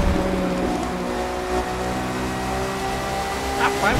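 Engine revs and climbs in pitch as a luxury race car accelerates in The Crew 2, a sustained loud roar with a short squeal near the end.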